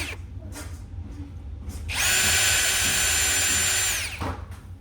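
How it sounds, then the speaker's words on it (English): Power screwdriver whirring to unscrew a wall socket, a loud close motor whine lasting about two seconds that rises and then stops abruptly, with a few faint knocks before and after. "And then we are going to unscrew the socket."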